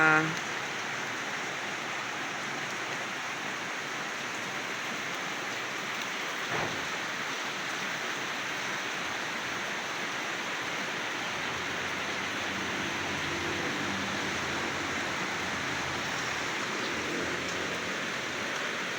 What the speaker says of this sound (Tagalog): ang ganda po ng tulog ng dalawa at malakas po yung ulan